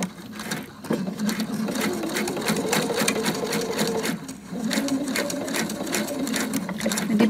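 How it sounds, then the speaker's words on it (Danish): A sewing machine stitching along a strip of belt webbing, a close, steady mechanical whirring and clatter that runs almost continuously, pausing briefly twice before resuming at the same pace. "det gør, at maskinen har et jævnt udgangspunkt, når jeg starter med at sy her henover"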